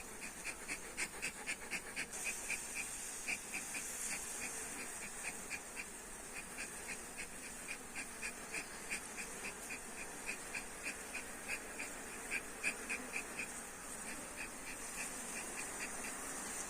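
Bees buzzing around a beehive during beekeeping work, a faint steady drone with a rapid regular pulsing in it, no talk.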